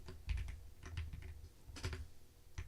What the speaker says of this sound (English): I got a new keyboard, so it's a little...